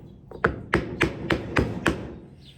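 A hammer taps a wood block against the ends of an IKEA cabinet part during a repair: six evenly spaced, sharp knocks, close and clear, with no talk.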